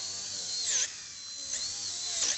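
A high-RPM polisher buffs a headlight with compound, giving off a high, whining drone that rises and dips in pitch as the pad moves across the lens, fairly close and with no talking.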